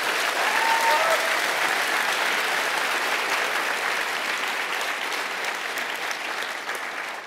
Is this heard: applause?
yes